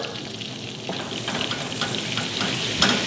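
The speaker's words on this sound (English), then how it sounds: "the butter is melted, and I'm going to be adding in the flour" Flour stirred into melted butter in a pan to make a roux for a Gorgonzola cheese sauce, giving a steady soft sizzle and frying hiss with faint stirring scrapes, no voices.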